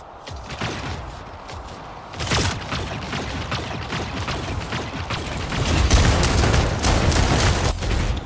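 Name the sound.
shotgun fire in a video game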